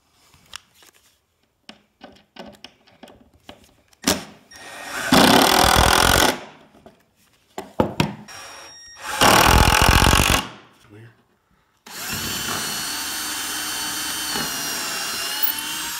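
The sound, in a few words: power drill driving screws into a sign mold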